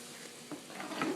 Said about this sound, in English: Mix that all up together.